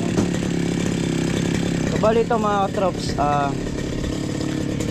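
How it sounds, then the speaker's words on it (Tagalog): A petrol grass cutter idles with a steady buzzing two-stroke drone close by, and someone speaks over it partway through. "grass cutter."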